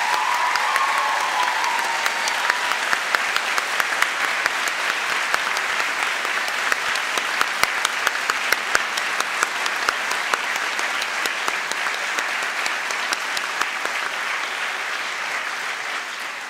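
Audience applauds the staff at a University of South Wales graduation ceremony in Newport, a dense, even roar of clapping from a large crowd sustained throughout, tapering slightly at the end.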